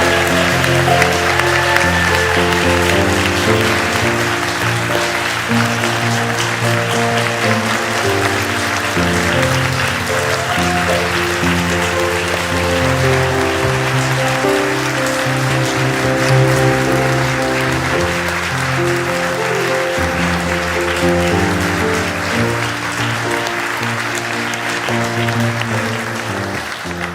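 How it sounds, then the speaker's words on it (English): A congregation gives a long, sustained round of applause at a church ceremony during a worship service, with steady crowd clapping layered over prominent music that plays throughout. "let us all give these people an amazing round of"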